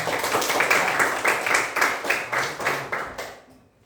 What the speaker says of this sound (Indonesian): Tepuk tangan buat Sang Man.